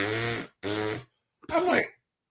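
A voice imitates a bugle player at a fort warming up his lips, making three short buzzy lip blasts close to the microphone, the last one wavering in pitch.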